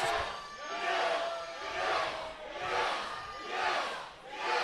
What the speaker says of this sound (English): We've got the yes chant going here